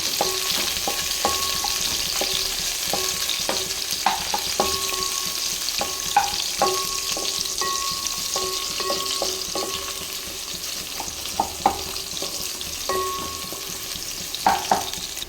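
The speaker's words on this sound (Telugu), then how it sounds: "తర్వాత ఆనియన్ వేసి కాస్త ఆయిల్లో మగ్గించింది." Chopped onion softens in hot oil for a plain kushka, giving a steady close sizzle with occasional stirring clinks and scrapes against the pan; no one speaks.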